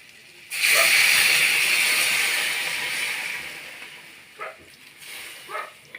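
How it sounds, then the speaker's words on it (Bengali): Water poured into a pan of hot, fried-down curry bursts into a loud, close hiss of steam that slowly fades over a few seconds, followed by a couple of brief clinks. No one speaks. "এবার আমি জল দিয়ে দিলাম।"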